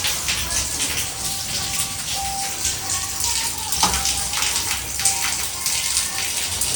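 Steady rain patters on surfaces in a monsoon downpour, a dense, even hiss with scattered drops close by that runs the whole time without a break.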